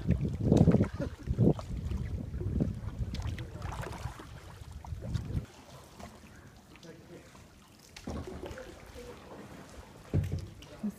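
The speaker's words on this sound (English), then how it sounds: "going kayaking now" Kayak paddles splash and drip in warm water in Halong Bay, Vietnam, with irregular near strokes and trickles, wind buffeting the microphone, and a quieter stretch in the middle before splashing resumes.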